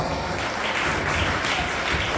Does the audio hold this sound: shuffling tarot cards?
no